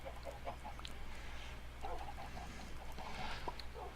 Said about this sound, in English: So all my chickens escaped.